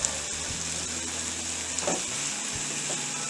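Garlic sizzling in a frying pan for a cheesesteak, a steady close crackling hiss with faint stirring scrapes, no talk.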